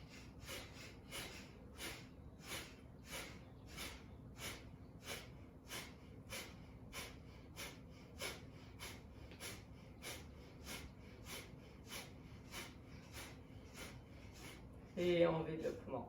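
Kapalabhati breathing exercise during a yoga session: a long, steady series of sharp, forceful nasal exhalations, evenly spaced about twice per second, close and fairly quiet, ending with a brief burst of louder breath and movement.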